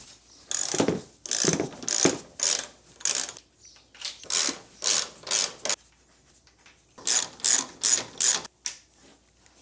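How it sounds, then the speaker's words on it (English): Ratchet wrench with a 14mm socket backing off three nuts at the top of a front shock on a 2020–2023 Subaru Outback, rapid bursts of close, crisp clicking in short groups separated by pauses. "we need to remove these 3 nuts from the top of the shock"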